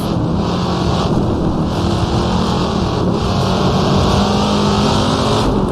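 Racing car engine in Assetto Corsa on the 1960s Watkins Glen circuit, a loud steady roar with wind-like rush throughout, sustained at high revs with slight swells, no talk.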